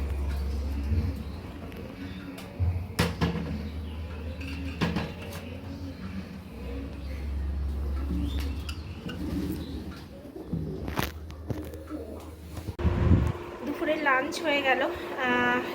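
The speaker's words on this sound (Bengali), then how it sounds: "আজকে পাখিগুলোর ভিডিও নিতে পারলাম" Birds cooing softly in a steady ambient scene, with occasional knocks and a brief burst of higher chirping near the end.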